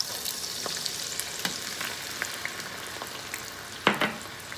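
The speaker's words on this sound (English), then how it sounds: "I'll be frying some onions to make brown onions for the garnish." Close, continuous frying of onions in hot oil with scattered crackles and pops. A louder burst of spattering comes near the end. No one speaks.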